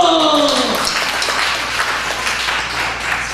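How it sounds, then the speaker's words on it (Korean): Church congregation applauding during a worship service, a steady wash of clapping following a sung or shouted cue, fairly loud and continuous to the end. "박수!"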